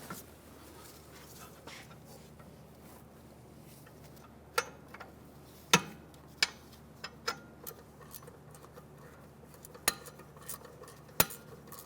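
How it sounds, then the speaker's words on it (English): An 18mm wrench works a tight bolt on the rear parking brake bracket of a 2006-2009 Mercedes-Benz E350, giving sharp metallic clicks and ticks spaced irregularly over a quiet background, close by, with no talking. "For the top one, I'm going to use an 18mm wrench because it's a little tight in there."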